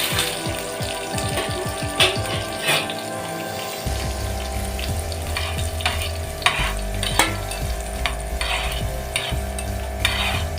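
Raisins fry in hot ghee for vermicelli payasam, a continuous sizzle with scraping and stirring clatter from a spoon, close and steady throughout.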